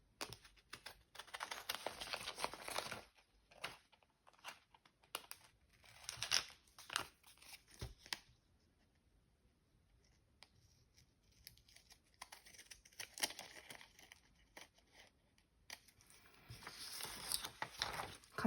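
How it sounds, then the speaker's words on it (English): Intermittent crisp snipping and crinkling of scissors cutting book pages, in irregular bursts with quiet pauses, close and fairly soft. "Cutting things out with scissors is not one of my talents."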